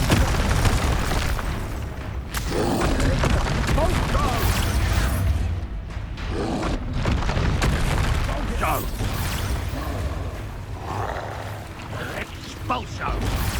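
Loud, dense bursts of Expulso explosion spells blast one after another in Hogwarts Legacy, booming and crackling over a constant roar of game effects, with a voice shouting through the barrage.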